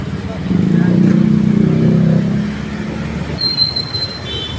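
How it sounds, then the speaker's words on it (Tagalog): Road traffic in Balintawak, with a loud rumble of engines and passing vehicles swelling and then easing, plus a brief high squeal near the end. "Traffic dito sa Balintawak guys."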